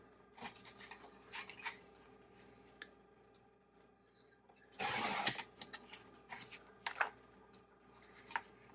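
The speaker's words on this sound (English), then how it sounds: "Printer's still making sounds." An office printer runs at close range, giving scraping, rubbing mechanical passes with a louder burst of feed noise partway through and quieter clicks around it.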